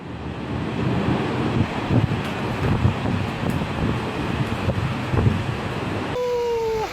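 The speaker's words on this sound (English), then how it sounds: "Those who remained behind in certain coastal villages faced rising water and powerful winds through the night" Powerful Typhoon Matmo winds batter coastal Guangdong, a loud continuous rushing roar with gusty buffeting against the microphone, ending in a brief whistling tone.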